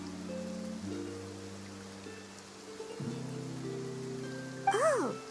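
Steady rain falls in a video game, a soft hiss that stays under tonal game music, with a brief brighter sweep near the end.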